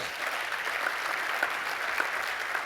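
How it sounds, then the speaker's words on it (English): An audience gives a hand clap for mothers during a talk on passion in difficult economic times, producing an even, sustained wash of applause at moderate distance with a few sharper claps poking through. "Can we give moms a hand clap, please?"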